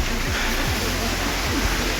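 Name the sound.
small waterfall flowing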